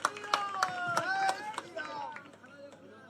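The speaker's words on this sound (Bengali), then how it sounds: "একবার জোরে করতালি দিয়ে" Scattered claps from a crowd at a BJP election campaign rally in Chowringhee, a handful of sharp hand strikes ringing out beneath an amplified voice, then trailing off.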